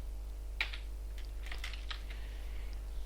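Code is typed on a computer keyboard in short clusters of quiet clicking keystrokes over a faint steady hum, close and soft, with no talking.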